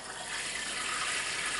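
Water running steadily into a jar of sourdough starter freshly fed with whole wheat flour, a continuous close splashing pour with no talking.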